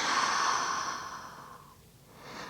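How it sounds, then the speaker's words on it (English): Long, deep breaths during a pilates exercise, a steady airy exhale that swells at first, fades to near silence, then begins again with a fresh breath, close and alone. "Long, deep breathing."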